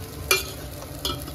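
Tadka tempering for pav bhaji sizzles in a pan, with two sharp bursts of frying as ingredients are stirred, close and fairly loud, no talking.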